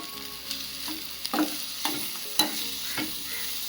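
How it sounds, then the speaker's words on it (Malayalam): Sliced onion and beetroot sauté in a hot pan with curry leaves and salt for a beetroot egg thoran, a steady close sizzle broken by repeated scraping stirs of the spoon, with no talking. "ഇനി ഈ സവോളയും ബീട്രൂട്ടും നന്നായിട്ടൊന്ന് വഴണ്ട് വരണം."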